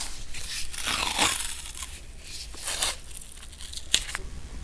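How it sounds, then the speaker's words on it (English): Tape tears off the roll in a few crackling pulls over a motorcycle grip, followed by a sharp snip as it is cut, all close and moderately quiet. "I'm just going to take the tape and go over the end, and I'm just going to cut the whole thing at one time."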